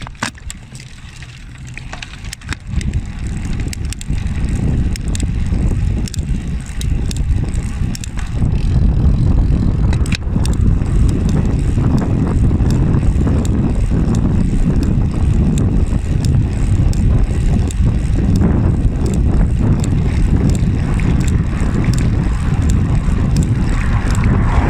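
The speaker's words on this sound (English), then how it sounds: "I try and record the sound from this bottom bracket that's giving me all my troubles" A bicycle with a troublesome bottom bracket being ridden on the road, a loud continuous rumble of rolling and wind buffeting the microphone, with a faint grinding from the drivetrain that never stands out clearly.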